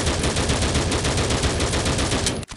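An assault rifle firing full-auto in the mobile shooter Critical Ops, a loud, dense, rapid stream of shots lasting over two seconds before cutting off abruptly.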